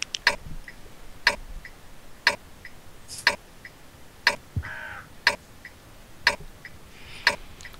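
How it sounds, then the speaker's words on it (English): A countdown timer in World of Tanks ticks in a steady, evenly spaced run of about eight crisp clicks roughly once per second, each clear and close with faint background noise between. "countdown timer, I could hear that ticking repeated through your sound."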